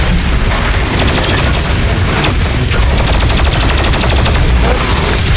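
Loud, relentless gunfire and booming blasts from the demon-fighting shooter Doom Eternal form a dense, continuous barrage of rapid shots and explosions with no pauses.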